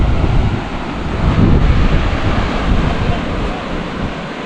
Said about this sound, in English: There you go, the Atlantic Ocean.